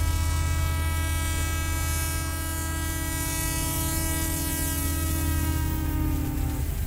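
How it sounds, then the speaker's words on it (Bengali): A train's whistle sounds loud and sustained as the train pulls away, a strong tonal blast over the rumble and clatter of rail cars, continuing steadily throughout with no speech. "ঠিক সেই সময় হুইসেল দিয়ে ট্রেন রওনা হলো।"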